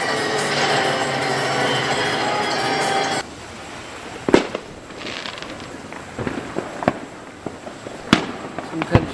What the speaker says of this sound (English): Trying to catch these fireworks is like playing a game of whack-a-mole.